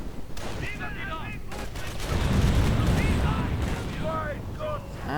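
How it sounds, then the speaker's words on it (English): Bursts of gunfire as engineer units are shot up during a match of a strategy video game, fairly loud and sustained over about five seconds, with a commentator talking over it. "And the engineer team was lost in a tragic gun-firing accident."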